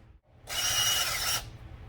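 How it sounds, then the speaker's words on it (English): Power drill boring through a homemade push pole for a jon boat, one steady high whine of about a second that starts and stops sharply, close and loud, with no talk. "you drill through and come out the other side"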